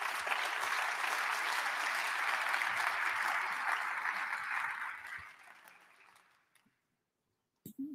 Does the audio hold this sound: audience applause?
yes